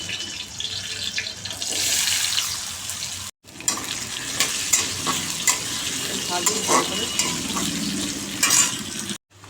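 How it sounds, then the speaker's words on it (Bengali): Potatoes hit hot oil in a kadai already holding bay leaf, whole cumin and green chilli, giving a loud, steady sizzle and crackle that runs throughout, with a brief break. "এখন আমি এই কড়াইতে তেল দিয়েছি তেজপাতা দেবো গোটা জিরে দেবো কাঁচা লঙ্কা দেবো এই তেজপাতা দিয়ে দিলাম গোটা জিরে দিলাম লঙ্কা দিয়ে দিলাম আলু দিয়ে দিই"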